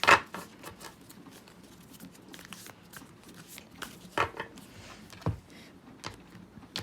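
Tarot cards are shuffled close up with quick papery riffles and soft taps, followed by a few sharp slaps as the deck is handled.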